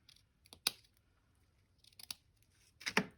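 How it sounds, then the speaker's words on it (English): Scissors snip through an index card in three quiet, crisp cuts spaced apart, each a short sharp click close to the ear in an otherwise silent room. "So I am going to cut this off about right here."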